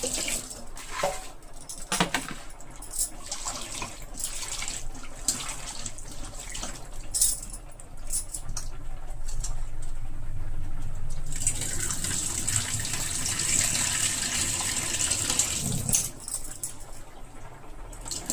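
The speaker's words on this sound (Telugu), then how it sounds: "నేనైతే ముందు ఒకసారి కడిగాను కానీ వీడియోలో మీకు చూపిద్దాం అన్న ఉద్దేశంతో మళ్ళీ రెండుసార్లు కడిగాను" Tamarind leaves being washed in water, steady running and splashing from a tap or sink with intermittent sloshing and handling noises, close by, with no talking.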